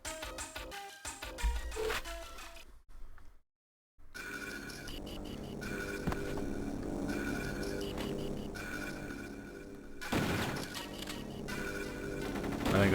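Rapid gunfire from the game kill.switch on the Game Boy Advance, dense repeated blasts and electronic game sounds over a steady background, with a short silent gap early and a louder burst near the end.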